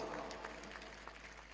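Audience applause at a mushaira poetry event, a faint, steady wash of clapping from a crowd, heard briefly with no speech over it.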